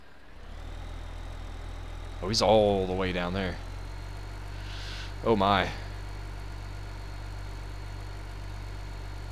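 Tractor engine idling in Farming Simulator 15, a low, steady hum running under the whole stretch while a person talks briefly over it twice.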